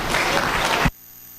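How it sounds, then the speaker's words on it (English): A crowd applauds the dairy goats at an AOB breed judging in a show ring: a dense, steady burst of clapping that cuts off sharply partway through, leaving quiet hall noise. "Give them all a round of applause."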